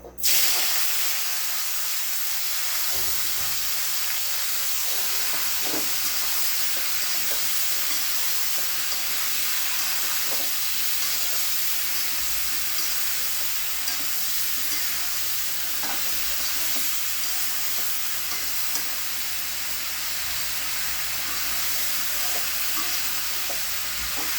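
Cauliflower, potatoes and beans fry in hot oil in a kadai, giving a steady, loud sizzle that lasts the whole time, with occasional stirring scrapes and knocks and no talking.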